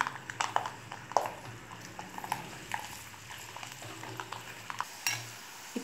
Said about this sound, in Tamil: ஆயில் நல்லா ஹீட் ஆனதுக்கு பிறகு அதில் பூண்டு ஆட் பண்ணிக்கலாம். பூண்டை நல்லா பொறிச்சு எடுத்துக்கலாம்.